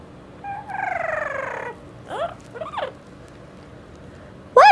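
Cartoon bird calls in a children's Spanish lesson: a long warbling trill followed by two short rising-falling chirps, then a sharp loud chirp at the end, all clear and close with no talking.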